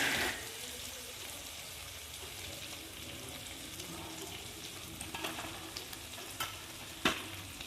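Ginger-garlic paste and spices sizzle steadily in a pan over a lowered gas flame for chicken kosha, a soft continuous frying hiss with a few faint clinks and stirring scrapes, no voices.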